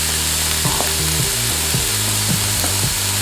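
Ham and carrot frying in a pan for yakimeshi fried rice, a steady loud sizzle with scattered clicks and scrapes of stirring running throughout, no voices.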